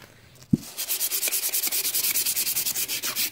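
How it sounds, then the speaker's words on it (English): Light hand sanding of a Suzuki FA50 moped part, a short knock followed by quick rhythmic back-and-forth scratchy strokes, close and steady. "I decided I would give it just a light sand"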